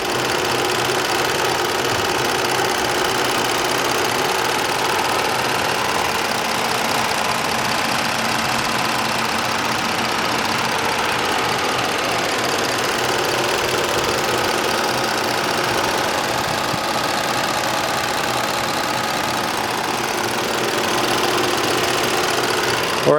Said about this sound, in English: this is the engine. Very quiet, very smooth, no ticks, no clunks